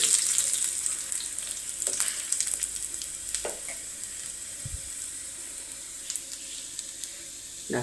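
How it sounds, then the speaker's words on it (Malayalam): Curry leaves crackle and sizzle in hot oil for a tempering while being stirred. A close, steady frying hiss runs under scattered spatula scrapes and pops, and no one speaks. "കറിവേപ്പിലയും കൂടി ഇട്ട് നന്നായിട്ട് ഇളക്കി"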